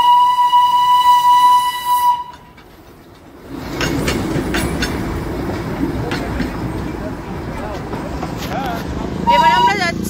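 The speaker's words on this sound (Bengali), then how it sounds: "দেখ বাবা ট্রেন ছাড়বে" A departing Darjeeling train sounds a loud, steady whistle for about two seconds, then rolls off with rumbling, clattering rail noise. A second shorter whistle blast comes near the end, with voices nearby.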